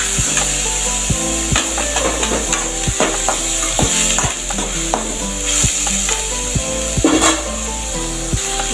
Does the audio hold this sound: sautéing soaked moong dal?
yes